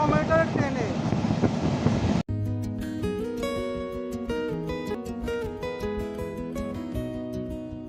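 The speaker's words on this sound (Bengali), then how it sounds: "মংলা কমিউটার ট্রেন চুলকাটি বাজার রেল স্টেশন ছেড়ে যাচ্ছে" The Mongla commuter train on the Khulna–Mongla line rumbles on its rails as it pulls out of Chulkati Bazar station in the rain, a steady rushing noise for about two seconds before music takes over.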